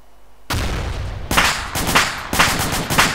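An anti-tank weapon in a military video game fires a loud, sudden blast, followed by more heavy booms and overlapping gunfire in rhythmic bursts, close and dominant.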